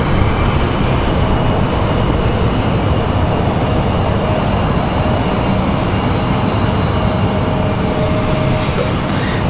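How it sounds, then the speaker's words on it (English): A JetBlue Airbus A320 lands at Raleigh-Durham airport, a steady loud broadband jet roar with a faint whine, constant throughout with no talking. "This is JetBlue 404 in that new livery coming in from San Juan, Puerto Rico."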